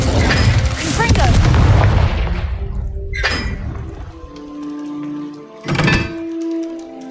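Confringo explosive spell blast in Hogwarts Legacy, a loud booming impact with a crackling, shattering tail, followed by a second sharp blast a few seconds later over ringing game tones, with speech nearby.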